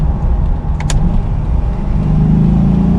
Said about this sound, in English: it's so quick to rev the car